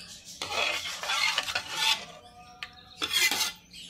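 A spoon stirs a rice flour mixture with nigella seeds and chilli powder in a bowl, making papad dough; close, continuous scraping and rubbing strokes come in bursts with brief pauses between them.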